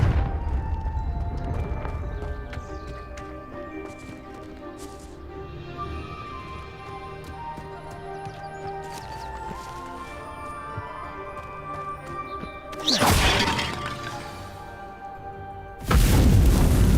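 Confringo blasting spell in Hogwarts Legacy erupts as a loud, sharp explosion, with a second burst hitting near the end over a steady layer of ambient game music.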